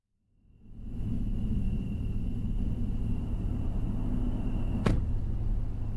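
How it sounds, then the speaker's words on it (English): In the horror game Fears to Fathom: Norwood Hitchhike, a car engine hum fades in and holds as a steady, moderately loud rumble, with one sharp transient near the end. "I saw a car nearing."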